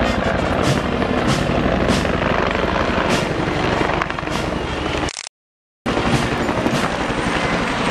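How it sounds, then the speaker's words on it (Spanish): A formation of military helicopters passes overhead during a military parade, rotor blades thumping in a loud, rapid rhythm; the sound drops out briefly for a moment of silence before the heavy chopping resumes. "Aproximando desde el norte, una agrupación de helicópteros"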